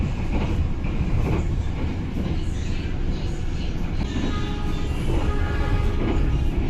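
The Ranggajati passenger train, running below 100 km/h, rumbles along the rails in a steady, loud roar, with faint rhythmic clatter and occasional high squeals.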